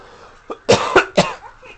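A boy with a mild cold coughs three times in quick succession, fairly close and loud, with a softer throat sound just before and a faint one after.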